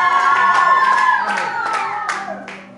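A church congregation applauds during an evening sermon at a gathering, with dense clapping and raised voices and cheers mixed in, loud and close, slowly fading toward the end.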